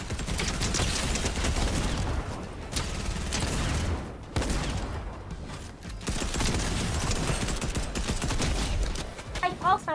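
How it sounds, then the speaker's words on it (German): Video game gunfire in a multiplayer match, bursts of shots and clattering action running nearly continuously and fairly loud, with brief lulls between volleys. "Da wird rumgeschossen."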